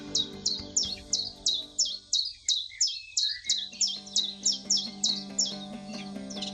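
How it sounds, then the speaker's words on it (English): European chiffchaff singing during spring migration beside the Sardarya river, a steady run of repeated sharp two-note chirps at an even rhythm, fairly close and clear over a faint background hum. "Do you hear the song of the European chiffchaff?"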